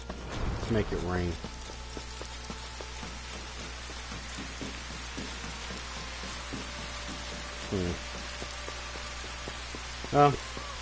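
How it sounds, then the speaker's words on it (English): Rain falls in the video game Final Fantasy XV, a soft, steady patter with faint tonal game sounds and brief bursts of background noise layered over it. "Make it rain."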